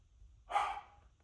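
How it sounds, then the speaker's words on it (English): A pet dog gives a single short bark or yelp indoors, fairly close, lasting about half a second and then fading out. "Excuse my dog, she wants to go outside."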